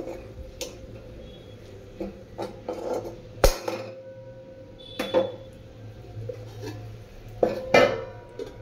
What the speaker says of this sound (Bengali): কিন্তু আমি চাটনিটা একটু নেড়ে দিই।